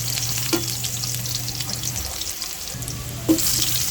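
Garlic frying in a pan for a sautéed vegetable dish, a steady hissing sizzle with a low hum beneath and two brief metallic taps from a utensil.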